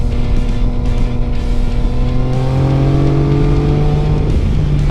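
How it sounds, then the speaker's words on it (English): A Yamaha Tracer motorcycle with the cross-plane inline three engine from the MT-09 runs loud and close, its engine note steadily revving and rising in pitch. "we've got the cross-plane inline 3 engine, same engine that's in the MT-09"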